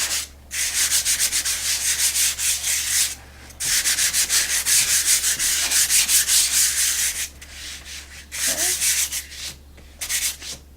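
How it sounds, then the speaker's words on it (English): Painted wood being sanded by hand with 100 grit sandpaper on a tole-painted nutcracker, close rasping strokes in fast, steady rhythmic runs broken by short pauses, with no talking. "I'll go back over with the rough side, the 100 grit sandpaper, and I'll just knock down the high parts"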